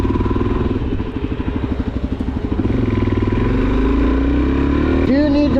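Suzuki DRZ400SM motorcycle with a stock, quiet exhaust, its single-cylinder engine putting out a steady, pulsing idle and throttle blips up close, with a person speaking briefly near the end.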